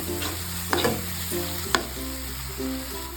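Garam masala, chili powder, turmeric and curd stirred in a pan for kadai paneer, a constant loud sizzle with a few sharp scrapes of the spoon against the metal, close up and with no talking.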